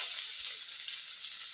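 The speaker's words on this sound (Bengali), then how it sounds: "সয়াবিন আমার ভাজা হয়ে গেছে," Soya chunks frying in oil make a soft, steady high hiss of sizzling, quiet and uninterrupted, ending in a brief bump.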